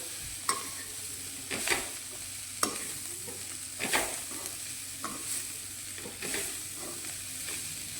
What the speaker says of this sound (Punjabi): ਹੁਣ ਇਹਦੇ ਵਿੱਚ ਆਪਾਂ ਜਿਹੜੇ ਫਰਾਈ ਕਰਕੇ ਰੱਖੇ ਨੇ ਕਰੇਲੇ ਉਹ ਪਾ ਦਿੰਨੇ ਆ ਤੇ ਚੰਗੀ ਤਰ੍ਹਾਂ ਇਹਨਾਂ ਨੂੰ ਮਿਲਾ ਲੈਣੇ ਆ